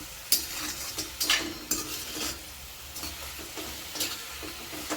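Safflower greens stir-fried dry in a pan for karadi bhaji, a run of scraping stirs with a soft sizzle underneath, repeated at an uneven pace and close by.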